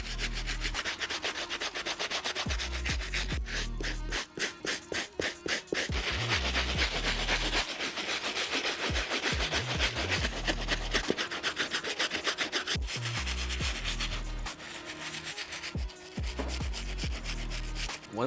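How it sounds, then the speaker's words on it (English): Stiff bristle brush scrubbing an Air Jordan 5 Metallic sneaker, close rapid back-and-forth scratchy strokes in continuous bursts with brief pauses between passes. "We're just gonna grab this stiff brush and finish off this cleaning."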